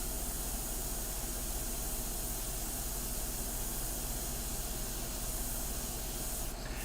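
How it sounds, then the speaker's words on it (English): An airbrush spraying a medium mixture of India ink for portrait painting gives a steady, continuous hiss that runs unbroken and close throughout, with no talking. "Look at that, dueling airbrushes."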